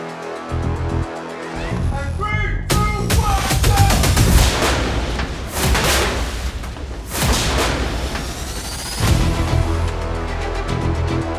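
Several heavy explosions go off in succession on a film set, loud booming blasts with crackling debris and rumbling tails, separated by brief lulls.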